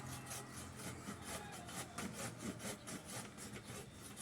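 A hand saw cuts through wood with steady back-and-forth rasping strokes in a quick regular rhythm, faint and continuous, with no talking.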